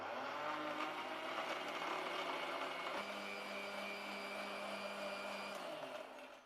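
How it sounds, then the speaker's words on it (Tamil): A mixer grinder blends cucumber juice with sugar and ice cubes, giving a steady loud whirring motor drone that holds for several seconds and then winds down at the end. "சேர்த்துட்டு மூடி மிக்சியில் நல்லா நைஸாக வர்ற அளவுக்கு அடிச்சுக்கணும்."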